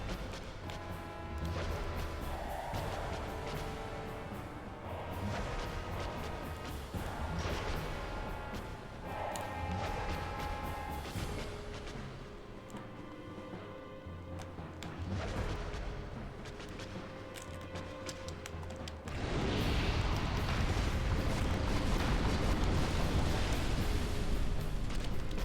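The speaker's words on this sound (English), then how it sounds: "Oh, she's exploding." An enemy explodes during a Dark Souls boss fight in Blighttown or Sen's Fortress, a loud burst swelling near the end over dense, continuous game music and combat noise.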